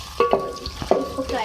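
A large chopped onion fries in hot oil, a close bright sizzle punctuated by a few quick spatula strokes and clinks over a short moment.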